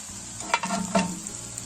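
Garlic goes into a hot pan of crispy potatoes, a quiet steady sizzle with two brief scraping stirs or clinks.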